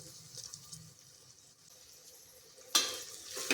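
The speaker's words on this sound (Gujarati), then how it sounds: "બધા જ વેજીટેબલ આપણે સરસ અહીંયા સાતળી લઈશું" Vegetables sautéing in a pan for masala khichdi, a soft low stirring and frying sizzle that swells into a louder, bright hiss of frying near the end.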